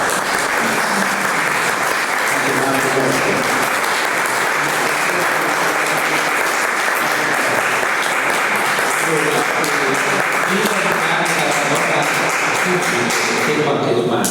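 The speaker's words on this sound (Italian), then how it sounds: "applauso" Sustained, loud audience applause at an Italian conference hall event, dense and steady clapping that carries on without pause for well over ten seconds.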